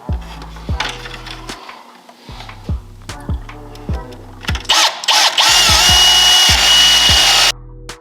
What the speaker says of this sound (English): we're going to drill an extra hole beside the bolt hole over here